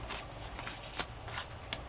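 Rough-cut cards handled and shuffled for a handmade file folder journal cover, giving soft papery riffling and a few sharper flicks, quiet and close with no talking.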